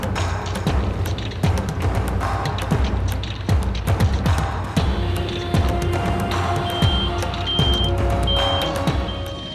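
Tow truck reversing on a Tokyo street with repeated backup beeps that are steady and evenly spaced. They sit over loud traffic and engine rumble, with sharp clicks and knocks close by.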